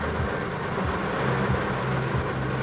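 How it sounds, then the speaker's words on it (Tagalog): Heavy rain drumming steadily on a parked car in a mall parking area during an afternoon downpour, a dense continuous wash of noise with a low rumble underneath, no talking. "napakalakas po ng ulan sa labas."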